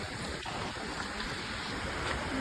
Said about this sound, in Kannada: ಫಾಲ್ಸ್ ಸೌಂಡ್ ಕೇಳಿಸ್ತೈತೆ ಆಲ್ರೆಡಿ ನೋಡು